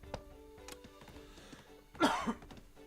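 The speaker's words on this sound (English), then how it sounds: "I'm so sorry about the cough." A single short cough bursts out near the end, above faint background clicks and rustling, with a smaller second catch right after.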